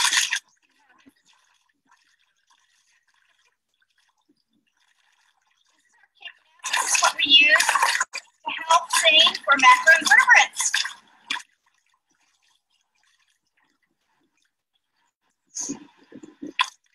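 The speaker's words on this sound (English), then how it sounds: "You're gonna kick, stir up the pebbles and the things that are" Boots kicking and stirring up pebbles on a stream bed while sampling with a net: a few seconds of splashing, sloshing water and gravel scuffs, near and moderately loud, with quiet gaps before and a brief splash near the end.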